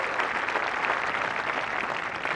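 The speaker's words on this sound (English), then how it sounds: "Generous applause for Lydia Kay." Spectators at the Women's Australian Open golf tournament applaud after a bunker shot, a steady, moderately distant spread of clapping that lasts the whole moment.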